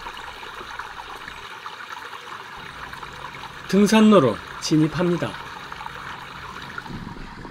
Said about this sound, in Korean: 운동장 옆 계곡에서 흐르는 물소리가 상쾌하게 들립니다